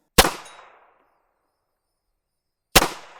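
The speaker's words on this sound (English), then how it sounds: "And 2 brief shots with the pistol." Two sharp shots from a German Mauser C96 pistol ring out about two and a half seconds apart, each a loud crack with a brief decaying echo and silence between.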